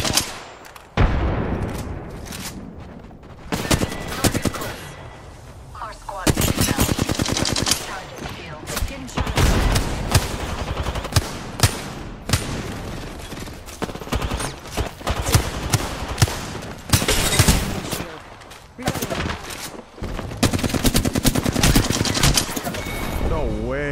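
Gunfire in a first-person video game shooter, loud bursts of rapid automatic fire and single shots in repeated volleys with short pauses, mixed with game effects and a player talking now and then.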